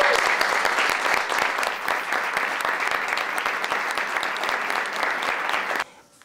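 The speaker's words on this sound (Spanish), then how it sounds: "Un aplauso" Dense applause from an audience in a nightclub during a tribute to a trans performer in Chile, steady clapping and some crowd voices that stop abruptly near the end.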